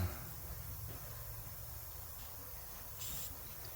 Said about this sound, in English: now I'll take my brake cleaner and I'll spray it in each one